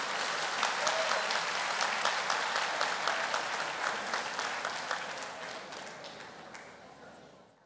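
A crowd at a Greek pre-election campaign rally for Kostis Hatzidakis claps in sustained, dense applause with some rhythmic accents, loud at first and gradually fading toward the end.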